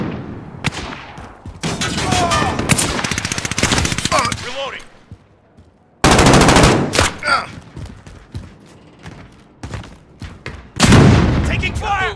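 Call of Duty gunfire rattles out in sustained automatic bursts and loud booming shots, close and harsh, with battlefield chatter and in-game voices mixed through the fire.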